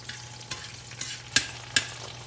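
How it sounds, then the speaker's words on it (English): Soft, steady sizzling of fish frying in olive oil, with a few light clinks of stirring scattered throughout. "I'm frying these in the Casandrinos olive oil"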